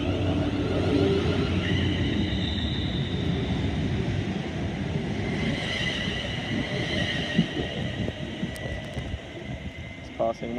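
Train passing through Watford Junction station, a continuous rumble of wheels on track with higher tonal whines from the traction motors, brief faint voices and station sounds around it.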